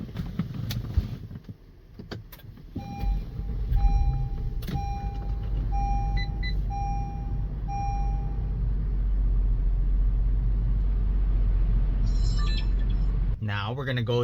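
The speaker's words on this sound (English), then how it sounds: "Now let's go ahead and start up the vehicle." A car starts up, with clicks and chimes from the dash before the engine catches, then settles into a steady, low idle hum for several seconds, and a final whirring shift near the end.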